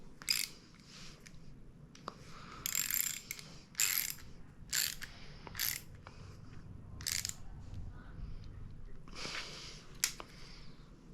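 A ratchet clicks in quick, uneven bursts while Glidr Nautilus scales are being tightened onto a mount, close and fairly quiet, with pauses between the runs of clicks.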